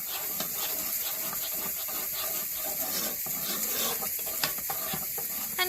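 A spoon stirs minestrone soup in a pot, making soft repeated scraping and rubbing sounds over a continuous background hiss.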